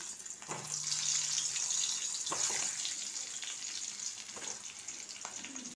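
Split potatoes with turmeric fry in hot oil in a pan, giving a continuous, fairly quiet crackling sizzle throughout, with a few faint knocks from the pan.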